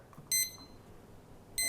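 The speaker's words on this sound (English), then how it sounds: "I'm gonna set the timer." A kitchen oven timer being set gives two short bursts of rapid, high-pitched electronic beeps, about a second apart, over faint room hiss.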